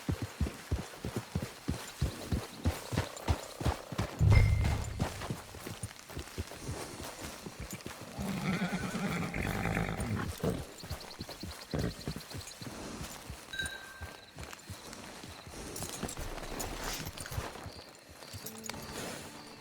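Rhythmic horse hoofbeats clip-clop steadily at a moderate pace in the video game Red Dead Online, with music and ambient noise layered underneath; no clear whinny stands out.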